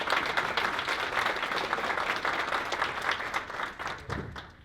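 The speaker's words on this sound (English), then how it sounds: "Please join me in giving them a final round of applause." A crowd at a student pitch competition gives the presenters a final round of applause. The clapping is dense and sustained and close to the mic, then thins slightly toward the end.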